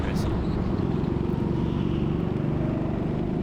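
Go-kart engines drone loudly at the Teamsport Leeds indoor track, a steady buzzing engine note heard close up from a kart in a race, with a voice talking over it.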